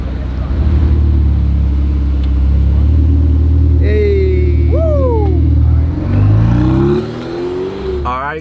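A Ferrari 488 Pista engine rumbles and revs up in rising sweeps, loud and close, with people talking over the deep engine drone.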